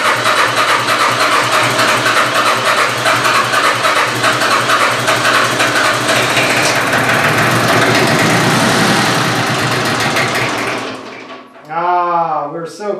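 An engine idling after its idle is turned down, a loud, steady rumble that runs for about eleven seconds and then cuts off, followed by brief talking.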